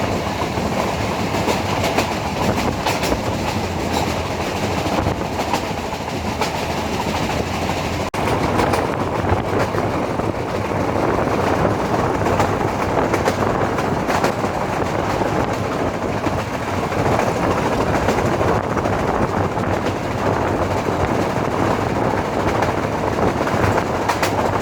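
Onboard a meter gauge train running from Junagadh to Sasan Gir, a continuous loud rumble with rhythmic wheel clatter on the rails throughout, steady and close.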